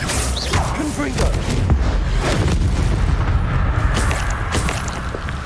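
A Confringo blast spell explodes in Hogwarts Legacy with a loud, continuous boom and heavy low rumble. It keeps rolling for several seconds under faint game noise.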